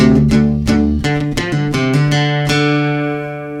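A heavy electric guitar riff in drop D tuning, with punchy palm-muted chugs and accented chords, ending on a ringing sustained note.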